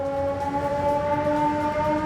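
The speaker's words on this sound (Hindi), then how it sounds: "ये इमरजेंसी के अलार्म, लोगों को आगाह करने के लिए अलार्म है कि खतरा है, उसके लिए बजाया जाता है।" Emergency flood warning siren sounding during heavy-rain flood alerts along a river, a steady sustained wail with strong stable tones holding for the whole stretch, loud and continuous with no speech.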